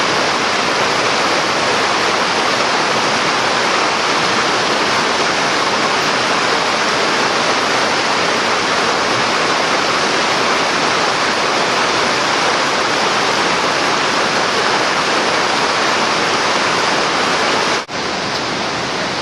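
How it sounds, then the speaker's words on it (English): A river in the Smoky Mountains rushing steadily, a dense, unbroken roar of flowing water that fills the space from start to finish, close and loud, with no voices. "Looking up the river."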